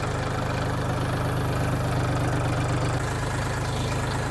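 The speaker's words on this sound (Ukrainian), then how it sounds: "Ну і так звучить КМ385" A Lovol 244 tractor's KM385 diesel engine idles nearby, a steady low rumble with a continuous throb that holds even, then drops slightly in level about three seconds in.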